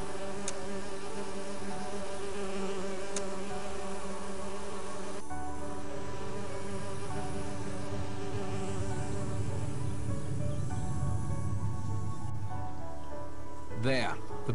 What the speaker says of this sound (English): The bees are now fast asleep.